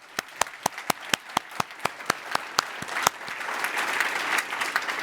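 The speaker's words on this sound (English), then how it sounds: "So a big round of applause for all those" Applause for the organizers at the close of a FedListens session on financial stability: sharp, evenly spaced claps ring out up front, then broaden into a steady wash of group clapping that carries to the end.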